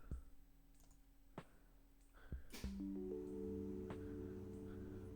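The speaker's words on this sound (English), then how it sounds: "I love the keyboard noises in this shit." A handful of sparse video game keyboard clicks tap quietly, then a steady electronic hum and tones take over in the background.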